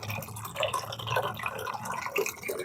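Rainwater drips and trickles into an animals' drinking container, a close, continuous burble of droplets and splashing water over a low background hum.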